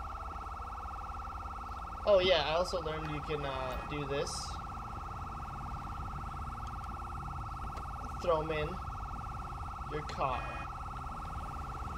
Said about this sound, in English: the crazy siren going on over here